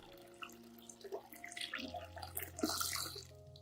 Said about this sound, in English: add 1 liter of clean room temperature water to dilute the solution